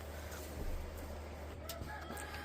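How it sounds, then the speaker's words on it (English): Chickens clucking softly and sporadically in a quiet barn, with a low steady hum underneath and a faint rustle. "apparently 2 chickens bedded down with Tilly and Duke last night"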